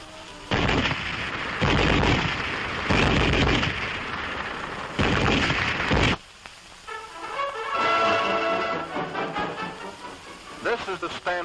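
German MG-34 7.92mm machine gun firing in long, loud, dense bursts for about six seconds, then a short pause and further rattling, clattering activity.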